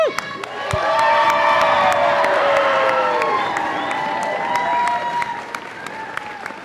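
An audience at a university awards ceremony cheers and applauds for the awardees with a sustained wave of clapping, whoops and shouts that gradually thins out.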